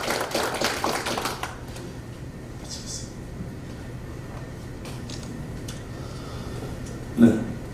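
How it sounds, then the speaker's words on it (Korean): An audience at a Korean commemorative lecture event claps in a dense burst that fades within about a second and a half, leaving a quiet hall with a few faint knocks. "박수 한번 주시기 바랍니다"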